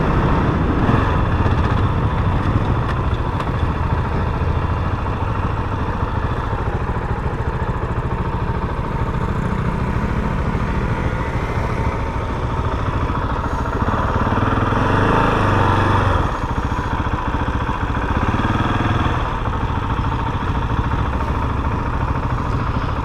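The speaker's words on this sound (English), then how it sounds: "Here they all come riding back in." A group of KTM motorcycles, including 1290 and 890 models, rides back in at a demo day, their engines a steady mid-pitched drone with loose revving that swells and fades, heard without talk.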